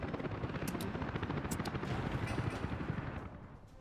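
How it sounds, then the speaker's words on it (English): Helicopter in the Soviet-era city-building game Workers & Resources: Soviet Republic, a steady dense rotor chop with a rumbling low drone, loud and continuous throughout before easing slightly at the end. "We'll get the helicopters to come and help with that."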